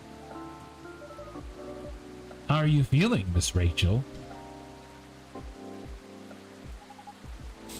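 Steady rain falls in the Coffee Talk video game as a soft, continuous hiss that stays under a short stretch of spoken conversation.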